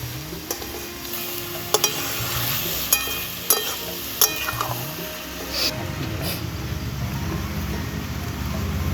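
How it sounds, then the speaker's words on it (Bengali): Onions fry in a pan as the base for a Dak Bungalow chicken curry with potatoes and eggs, giving a steady close sizzle with occasional sharp clinks of stirring, and no talk. "পেঁয়াজ ভাজা চলছে আমাদের।"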